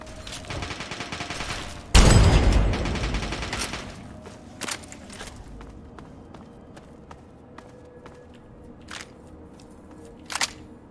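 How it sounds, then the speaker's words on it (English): Fallout 3 video game gunfire: a loud, close burst around the start, then scattered sharp single shots and clicks against a quieter background. "Just got gunfire landing right next to me."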